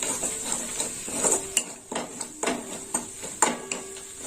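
Spices are stir-fried in a pan for tel begun, with a spatula scraping and clinking against the metal in a steady, uneven rhythm, close and fairly quiet, with no voices.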